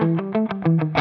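An electric guitar in humbucker mode plays a short run of about six clear plucked notes through an amp with slight gritty distortion that begins to break up, ending on a louder chord.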